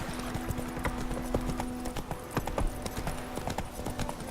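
Roach, Geralt's horse in the video game The Witcher 3, gallops with a steady, rhythmic clip-clop of hooves, mid-distance and moderately loud, with a faint steady hum beneath.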